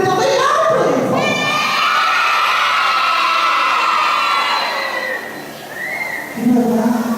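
Children at a church festival shout together in one loud, sustained collective yell that rises and holds for several seconds before trailing off, followed by a brief burst of a voice and noise at the end.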